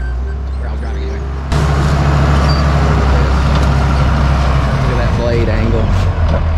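A bulldozer pushing a tree down, its diesel engine roaring loud and close in a steady heavy drone that jumps up sharply after a quieter start.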